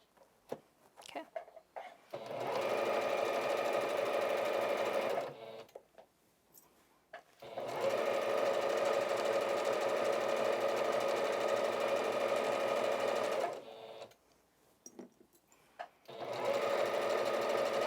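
A sewing machine stitches around the points and curves of a stuffed-pillow cover made as a breast cancer awareness craft, running in three long steady whirring bursts with short pauses and brief quiet talk between them.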